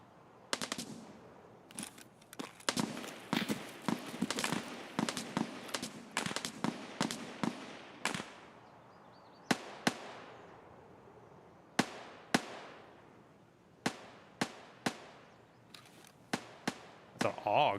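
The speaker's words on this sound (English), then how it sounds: "Haven't heard a fucking AUG in forever." AUG rifle fire rings out in Escape from Tarkov, with sharp cracks in short bursts and single shots scattered irregularly across the stretch, some echoing at a distance, while a voice talks underneath.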